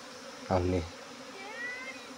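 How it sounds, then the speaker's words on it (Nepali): Honeybees arriving at a new hive, a faint buzzing and humming under outdoor ambience, with a brief louder burst of wingbeat drone up close. "मैले भर्खरै आएको मौरी तपाईहरुलाई चाहिँ यो क्यामेराबाट कैद गरेर तपाईहरुलाई देखाएको छु।"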